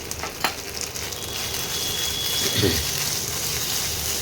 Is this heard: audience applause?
no